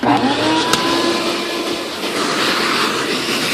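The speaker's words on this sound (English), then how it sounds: "Let's get to vacuum." A vacuum clears debris off a workbench during a hobby glider build: a loud, steady, hissing motor roar with a thin whine runs unbroken for a few seconds, with no voices.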